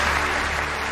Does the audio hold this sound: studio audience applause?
yes